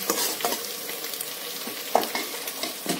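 Onions fry in a pan for a restaurant-style jackfruit (kathal) curry, a steady close sizzle with spatula stirring and scraping throughout and a sharper clink near the two-second mark.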